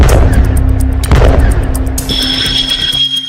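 Artillery cannon fire on a Russia-Ukraine battlefield: a loud, rapid series of sharp booms in quick succession, then a heavier blast followed by a lingering high ringing tone.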